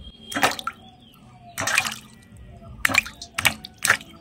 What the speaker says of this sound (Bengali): আমার ছেলে দিচ্ছে আমগুলো জলের মধ্যে কেমন করে